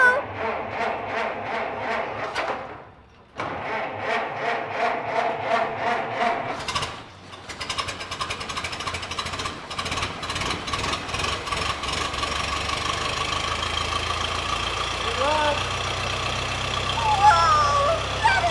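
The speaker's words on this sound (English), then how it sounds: "Jerry's gonna start it up and we're gonna take a ride with Dave. This is so exciting. Do you wanna hear what the engine sounds like?" A Ford Model T engine cranks and sputters in a couple of rhythmic attempts with brief pauses, then catches and settles into a steady, rough idle heard up close.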